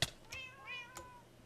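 A pair of short, clear meows from cats in a Minecraft modpack game, rising then falling, fairly near with nothing else around them.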